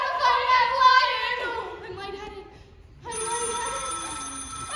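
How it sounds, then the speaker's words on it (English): An old-style telephone bell rings twice during a high school stage play, loud and close, with a short silent gap between the rings and no speech over them. "It's the phone."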